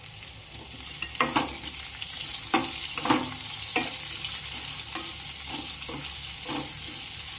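Onion and garlic fry in hot oil in a pan for mango chitranna, giving a steady close sizzle broken by several sharp stirring scrapes, with no talking.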